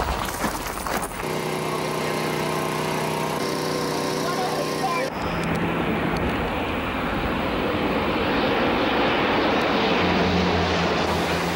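Firefighting aircraft flying over a windy wildfire, a steady droning engine that holds loud throughout amid gusting wind noise, with a voice speaking over it.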